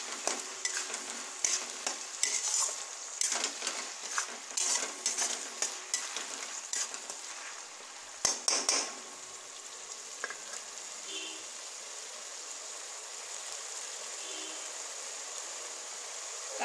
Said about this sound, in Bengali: আবার একটু ভাজতে হবে, গ্যাস একদম কমে করা আছে।